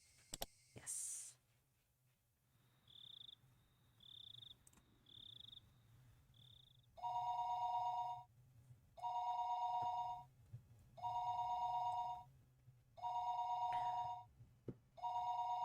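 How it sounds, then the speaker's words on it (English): Telephone ringing in the video game Higurashi When They Cry: a few short chirping tones, then four loud repeated double-pulse rings at regular intervals over a quiet night ambience with crickets. "The phone suddenly rang."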